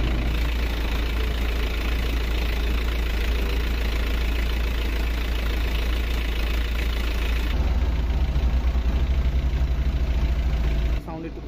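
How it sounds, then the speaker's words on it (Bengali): A new Rowor 1-ton pickup truck engine runs with the mic right beside it, a loud steady low idle rumble with rhythmic knocking that shifts in tone partway through before cutting quieter at the end. "আপনাদেরকে পিকআপটির ইঞ্জিন সাউন্ড শোনাচ্ছি"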